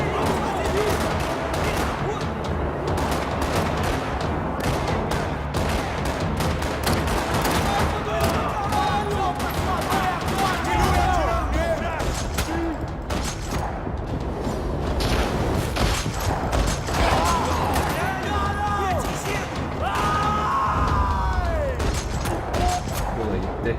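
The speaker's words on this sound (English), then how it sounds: "Another parking lot rattling with gunfire." Dense gunfire in the video game Max Payne 3 crackles almost nonstop in a parking lot, with rapid bursts and booming shots over a busy game soundtrack, loud and close throughout.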